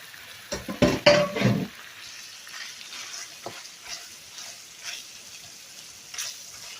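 Broccoli hits a hot pan of oil with crushed red pepper, garlic and herbs, setting off a burst of loud close sizzling and clatter that settles into a quieter frying with occasional stirring taps.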